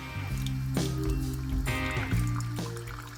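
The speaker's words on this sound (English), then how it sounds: "a 6-ounce cup of coffee takes 57 seconds to heat the water before it starts to dispense" A Keurig K-Mini coffee maker brews and dispenses a 6-ounce cup, giving a steady low motor hum with gurgling, squishing liquid bursts and drips that recur every second or so, close and fairly quiet.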